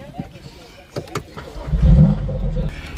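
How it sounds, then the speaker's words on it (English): BMW M2 Competition engine rumbling and swelling in the cabin as the first drive gets under way, rising to a louder surge midway with the car's sound dominating. "this is going to be the first drive in the BMW M2 competition"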